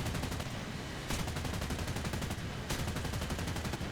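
Rapid cannon fire and explosions erupt in War Thunder during a Me 163 B-0 fighter match, a dense, loud, continuous crackling barrage with two sharper bursts standing out, and no voices.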